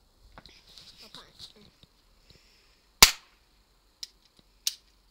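A cap gun from Spain fires caps in three sharp, loud cracks spaced about a second apart, the first the strongest, following quieter speech and small handling noises.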